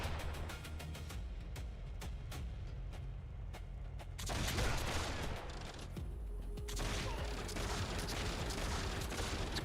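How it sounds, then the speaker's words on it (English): Machine gun fire in the Warhammer Online video game, rapid repeated shots in quick bursts, with denser, louder volleys of gunfire and booming impacts piling up in the second half. "Well, I'm gonna check machine gun and auto shot."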